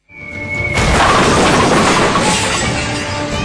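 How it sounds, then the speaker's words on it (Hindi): A bomb dropped from the sky onto a building where militants stand explodes with a sudden loud boom, followed by a sustained, roaring rumble. "आसमान से बम गिरा और आतंकियों के परखच्चे उड़ गए।"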